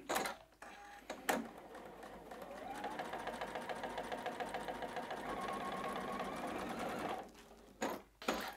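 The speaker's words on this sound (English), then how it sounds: "head over to that sewing machine, and again, stitch right down that center line" A sewing machine stitches fabric for a quilt block, running steadily for several seconds in a fast, even mechanical whir, with brief clunks and handling noises before and after.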